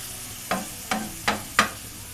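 Omelette pizza cooking in a frying pan over a slow flame, with four sharp scraping and stirring taps against a soft steady sizzle, close and with no voices.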